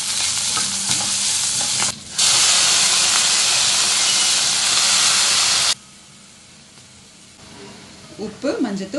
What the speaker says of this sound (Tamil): கோஸ் பொரியல் செஞ்சுக்கலாம்.